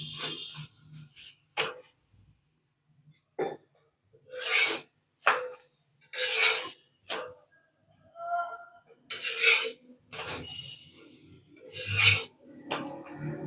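Bottle gourd rubbed against a grater in separate rasping strokes, each a short, bright scrape with pauses between, close and fairly clear in a quiet kitchen.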